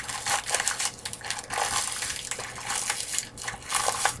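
Butter crackers being crushed from a sleeve, a steady run of close crackly crunching bursts that rise and fall in rhythm, with no talk over it.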